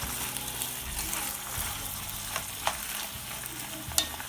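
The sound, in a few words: mung dal sauteing and being stirred in a pan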